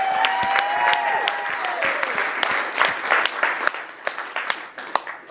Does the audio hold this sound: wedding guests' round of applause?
yes